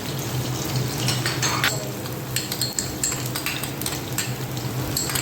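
Garlic and ginger sautéing in a pan for gobi manchurian, a steady sizzle with scattered clinks and scrapes of a spoon stirring against the pan, no talk.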